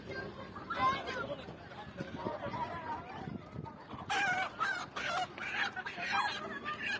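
Domestic chickens and ducks cluck and honk at a place selling ducks, their calls rising busier in the second half, with people talking over the birds throughout.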